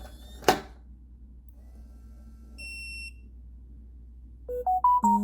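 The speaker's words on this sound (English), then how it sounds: "it also gives you a notification when it locks or unlocks" A Eufy smart lock's phone app plays its notification sound on locking or unlocking. A sharp click comes first, then a brief high beep, then a bright rising chime of several quick notes in a quiet room.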